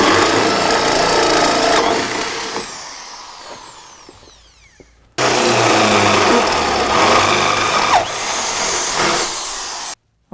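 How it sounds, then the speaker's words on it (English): A power drill bores bolt holes in the metal underside of a pickup truck while a lowering kit is fitted, a loud continuous grinding whine that fades, stops briefly, then resumes strongly. "Okay, now that we've got our 4 holes drilled"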